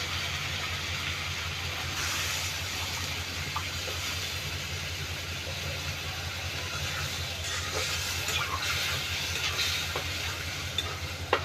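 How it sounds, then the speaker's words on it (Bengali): Water poured into a pan of fried spices including ground coriander hisses and sizzles steadily throughout, with faint stirring scrapes near the end and no talking. "এবার আমি এর মধ্যে দিয়ে দেবো পানি।"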